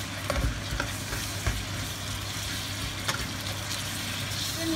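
Twice-cooked pork being stir-fried in a wok with a little added water, a steady sizzle running under scraping stirs and a few sharp utensil clacks against the metal, close and moderately loud.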